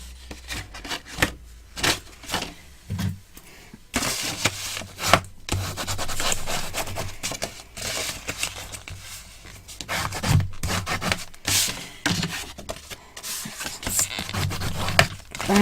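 Folded paper score lines on a Christmas scrapbook album are burnished with a tool, giving repeated close rubbing and scraping strokes in irregular bursts with short pauses between them.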